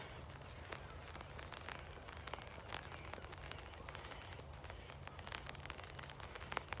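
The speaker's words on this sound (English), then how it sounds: "Can you guys hear the rain?" Light rain patters steadily and softly across a reedbed stream channel at a wetland nature reserve, scattered drops ticking faintly over a low, continuous hiss.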